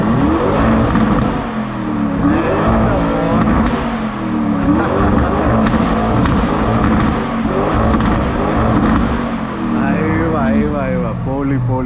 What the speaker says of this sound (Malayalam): ലംബോർഗിനിയുടെ ബാക്ക് ഫയർ കേട്ടിട്ട് എങ്ങനെയുണ്ട്?